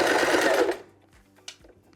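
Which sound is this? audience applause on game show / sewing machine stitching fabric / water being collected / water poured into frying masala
sewing machine stitching fabric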